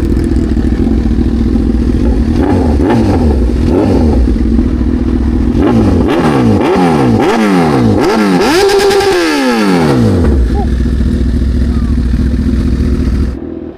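A Kawasaki Versys 1000 SE motorcycle engine idles loudly, then revs up repeatedly in quick rising bursts before dropping back to a steady idle, close and continuous.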